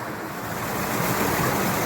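Rushing water roars steadily and close at a small waterfall on Far Easedale Gill in the Lake District, a dense continuous splash like a small cascade, with no voices.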